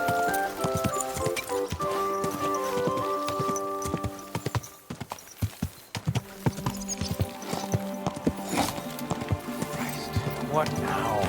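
Horse hooves clip-clop in a quick, uneven rhythm with a horse's neigh, set against music and effects from the video game Kingdom Come: Deliverance II.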